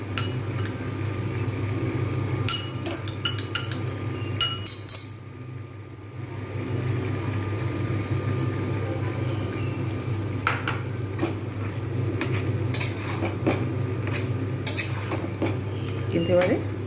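Metal spoon scraping and clinking against a pan while jackfruit and prawn curry is stirred, irregular sharp clatters in bursts over a steady low kitchen hum, with a voice speaking at times.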